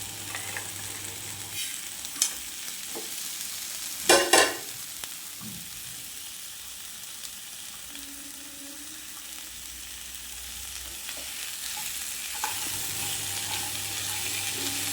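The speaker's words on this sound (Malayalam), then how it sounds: "ഇതിലേക്ക് നമുക്ക് വൃത്തിയാക്കി വെച്ചിരിക്കുന്ന ഞണ്ട് ചേർത്ത് കൊടുക്കാം" Cleaned crab pieces added to a masala mixture in a pan for crab roast, a low steady sizzle with a loud clattering burst as the crab goes in, then occasional stirring scrapes.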